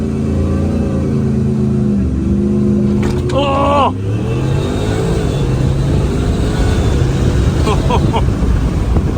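A loud Ford engine with a Whipple supercharger roars with a high mechanical whine rising above it, and a voice exclaims over the engine noise at a Ford car show.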